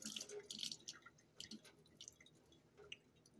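Water trickling and dripping into a container of fermenting heirloom tomato seeds in short, uneven splashes, faint and close, with no voices.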